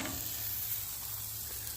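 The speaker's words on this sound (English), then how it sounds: "What's nice about the griddle as opposed to the grill is you get a nice sear." Chicken breasts searing on a Blackstone 28-inch griddle make a dense, continuous hiss that stays fairly loud and close, with no voices.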